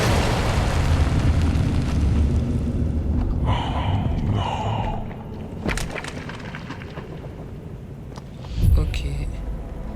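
A video game explosion in Poppy Playtime Chapter 4 opens as a loud, broad rumbling roar that slowly fades, followed later by a heavier boom, with voice sounds mixed in.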